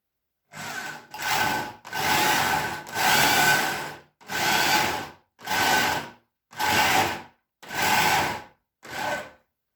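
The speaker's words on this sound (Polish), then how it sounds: "I takich już nawierceń wykonałem tyle, ile było potrzeba." A drill cuts countersink recesses into wooden roof timbers for a tractor shed, nine separate grinding bursts of about a second each, evenly spaced with short pauses, loud and close with no voices.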